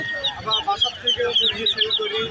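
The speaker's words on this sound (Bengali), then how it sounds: "এই পাশে আরও মুরগি আছে" Several chickens cluck in short repeated bursts at a busy rural market, close and moderately loud, with overlapping calls and a low murmur of background voices.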